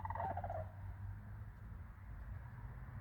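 A strange bird call with a turkey-like gobbling warble bursts out briefly at the start. It is moderately close, then drops away and leaves a quiet low room rumble.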